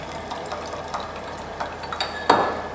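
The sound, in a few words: vinegar solution poured into a lab beaker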